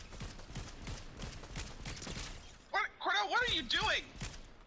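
Rapid gunfire bursts from a Fortnite match, sharp repeated shots over the first few seconds, followed by players talking excitedly.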